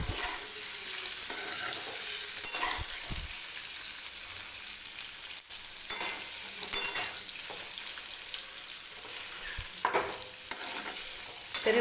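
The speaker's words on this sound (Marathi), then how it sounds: "अशा पद्धतीनं हे पनीर फ्राय करून घेतलं की पनीरला खूप छान टेस्ट येते." Paneer cubes fry in hot oil for matar paneer, a steady close sizzle with occasional stirring scrapes and small spits throughout, no voices.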